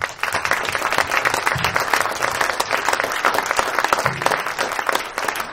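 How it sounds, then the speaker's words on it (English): Audience applause for the Black Country Jazz Youth Orchestra fills the room: dense, sustained clapping from a sizeable crowd, steady and fairly loud throughout with no talk over it. "a round of applause, quick round of applause for everyone"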